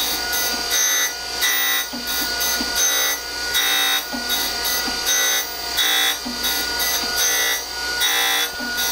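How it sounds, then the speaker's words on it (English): Abrasive grinding against a steel V-block in a machine shop, a steady rough rasping roar that swells and eases in repeated passes, loud and close with no talking. "You can grind a lot of stock off at once."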